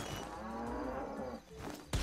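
A cartoonish cow moo from the bovine weapon in the video game Worms: Clan Wars, one drawn-out low lowing call lasting about two seconds, ending in a thud.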